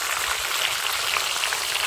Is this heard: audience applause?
no